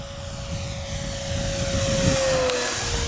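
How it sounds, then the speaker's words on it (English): A Flightline Spitfire Mk RC model warplane makes a full-throttle pass overhead with a steady, strained motor whine that swells slightly as it nears, continuous and fairly loud over open-air wind noise, with no talking. "Full throttle pass, here we go."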